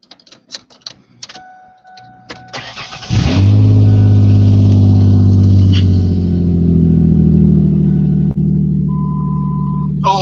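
A truck engine cranks and starts after a few clicks and knocks, then runs loud and close with a sustained revving drone, and a brief tone sounds near the end.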